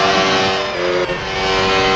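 A car in the Garry's Mod video game accelerates with a loud, steady engine drone and a sustained revving tone, briefly dipping before climbing again, heard alone and up close.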